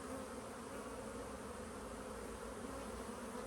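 Honey bees buzz around a hive in a dense, steady drone, many insects flying close and continuously without a break.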